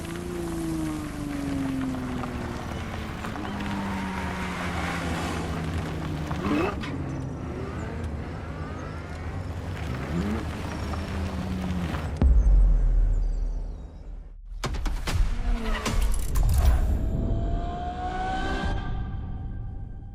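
A Ferrari supercar in The Crew Motorfest revs hard through rising and falling gear-change sweeps, loud and close, then near the end the engine note cuts out before a few sharp bursts and a final rev.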